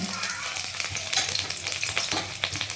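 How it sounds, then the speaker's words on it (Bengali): Chopped ginger and green chili fry in a pan while being stirred, giving a steady, close, loud sizzle with scraping strokes and no talk. "এখন এই যে আদা কুচো আর লঙ্কা কুচো একসাথে দিয়ে দিলাম"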